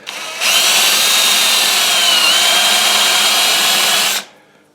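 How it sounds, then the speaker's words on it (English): A power drill with a Forstner bit whirs steadily at close range for about four seconds, starting abruptly and then spinning down to quiet. "So I just drill a little bit and test it."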